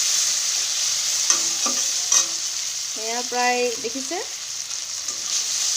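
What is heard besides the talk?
chopped tomato frying with spices in a wok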